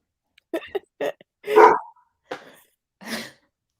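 A dog gives several short, sharp barks in an irregular series, close by, with silence between them.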